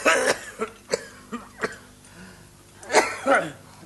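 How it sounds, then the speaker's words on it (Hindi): A series of short, harsh coughs, about six or seven, spaced irregularly with a louder cluster near the end, close to the microphone. "सारी रात खांसता है"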